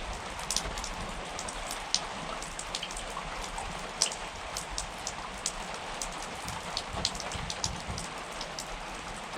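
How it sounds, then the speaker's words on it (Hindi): Steady rain falling at Mechuka, Arunachal Pradesh, a dense even hiss of drops on surfaces with scattered louder nearby drips and taps, continuous throughout with no voices. "I don't know whether you guys can feel that or not, but it's raining."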